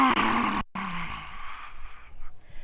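A forceful yoga lion's breath exhale, voiced into a loud, rough roar that fades out, breaks off briefly, then trails into a softer breathy sigh, up close in a quiet room.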